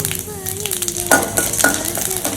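Mustard seeds, chana dal and urad dal frying in hot oil, a loud close sizzle with crackling pops and the scrape of stirring, briefly and with no voices.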